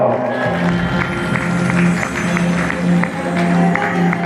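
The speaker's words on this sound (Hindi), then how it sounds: "अपन आप पर एक बार जोरदार तालियां बजाइएगा" Audience applause at a devotional Ramayana gathering, a steady wash of clapping carrying through the clip alongside a sustained musical drone and faint voices.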